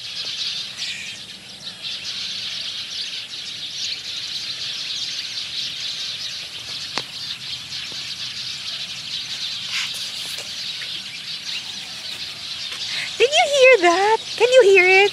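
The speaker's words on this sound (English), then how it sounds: "Can you hear it? So many birds." A dense outdoor chorus of many birds chirping at a distance, steady and continuous, with a few clearer warbling calls closer in near the end.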